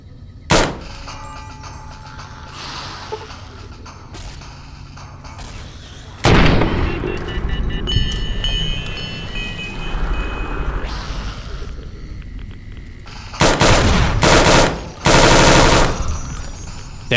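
Gunfire from a gun in the video game Fallout New Vegas, The Lonesome Road: loud, sharp bursts of rapid shots with a few single cracks, separated by quieter stretches of ambient game noise.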